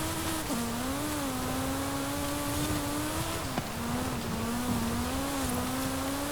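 A 2021 Sierra Cars 700R driven off-road in Forza Horizon 5, its engine holding a steady droning tone that rises and dips slightly with the throttle, continuous and without speech.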